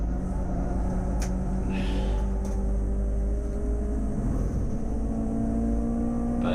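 A touring race car accelerates on the Snetterton circuit, its engine a continuous close droning roar that holds steady throughout, with a couple of brief clicks and a faint hiss mixed in.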